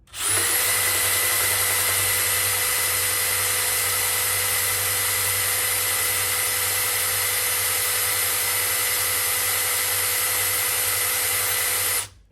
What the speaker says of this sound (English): it's just spinning with the drill